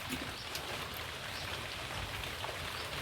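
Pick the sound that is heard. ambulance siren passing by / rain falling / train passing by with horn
rain falling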